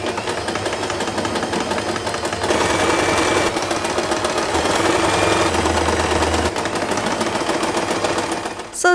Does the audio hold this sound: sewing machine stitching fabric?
yes